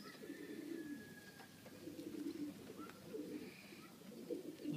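Pigeons coo steadily inside a breeding loft, their low rolling calls overlapping in repeated waves close by, with a faint higher chirp drifting through now and then.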